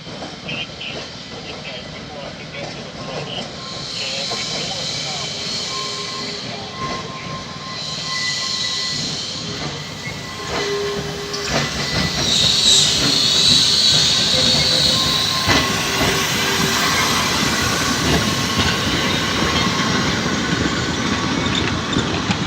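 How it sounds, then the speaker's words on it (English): An electric train rolls into Laxey railway station, Isle of Man, growing louder as it approaches, with rumbling wheels, a brief high squeal and a tonal hum, nearby voices faintly underneath. "This is Laxey railway station, and here comes a train to Douglas."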